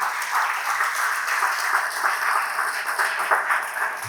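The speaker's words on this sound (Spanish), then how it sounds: "Den un aplauso al Señor." A church congregation applauds during a Spanish-language sermon, many hands clapping in a steady, even roar that carries on for several seconds, slightly roomy and without voices on top.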